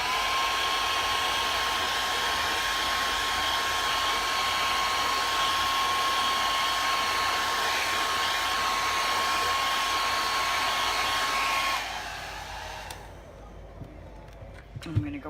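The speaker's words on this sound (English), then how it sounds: "I'm going to blow dry it just for a second." A hair dryer runs loud and steady at close range while blow-drying a freshly painted glass ornament, cutting off near the end and leaving faint handling noises.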